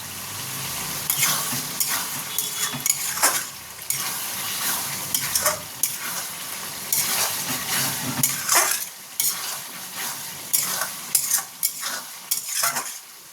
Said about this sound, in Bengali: যত কষবেন কিমাটা ততই ভালো হবে, তত স্বাদ হবে কিমায়